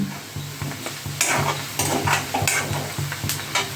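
Onions frying in oil in a pan, with a steady close sizzle and bursts of crackling as a spoon stirs and scrapes the pan in a few rhythmic strokes.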